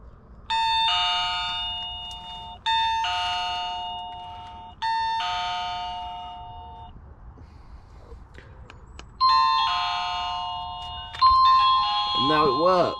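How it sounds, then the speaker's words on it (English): A video doorbell's electronic chime rings several times, each a sustained multi-note melody, close and clear, with a voice briefly heard near the end. "And then press the doorbell."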